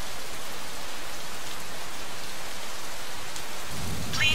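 Steady heavy rain hisses with rolling thunder in a stormy night scene in the video game Gemini Rue, a dense constant wash of sound with no voices.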